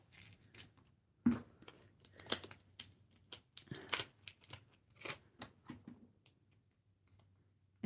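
Scissors snip through material for a rosemary spine journal, a series of crisp close clicks and cuts in an uneven rhythm, quiet, with no talk.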